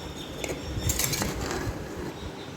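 A spoon scrapes and clinks against a pressure cooker while mixing Hyderabad-style soya meal maker biryani, a short close burst of metallic stirring with no voice.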